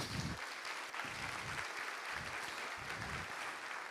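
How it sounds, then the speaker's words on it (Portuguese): Church congregation clapping during an evening service, a dense, even burst of applause filling the space at close range from start to finish. "Tem que aplaudir, querido."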